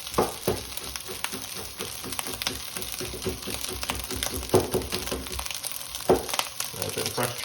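Fresh chili sizzles and fries in a pan for vegetable Singapore fried rice, a steady crackle with scraping stir strokes and occasional louder clatters, close by.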